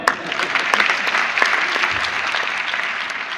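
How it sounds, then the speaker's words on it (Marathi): An audience claps for someone at a live talk event, with dense, loud, sustained applause from many hands lasting the whole stretch. "तिच्याकरता टाळ्या वाजवा."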